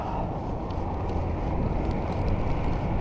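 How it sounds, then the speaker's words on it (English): Wind gusts roar across the microphone while riding a bicycle outdoors in cold weather, a dense, steady rush with no words spoken. "Wind is picking up a little bit."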